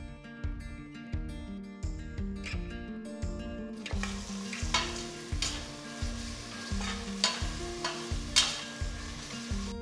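Steady sizzling of garlic paste frying in a pan with rhythmic scraping and stirring strokes, close up and continuous, louder and brighter in the second half.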